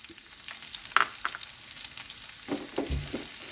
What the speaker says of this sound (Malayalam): സവാള കൂടി ചേർത്ത് നന്നായിട്ട് ഒന്ന് വഴറ്റിയെടുക്കണം